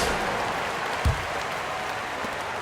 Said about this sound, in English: Let's give them a round of applause, your Connecticut Sun dancers.